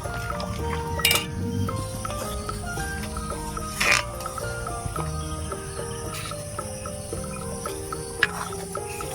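Spoon clinking against a pan while stirring mango pulp with water and sugar, a few sharp metallic taps over a soft bubbling and faint background noise.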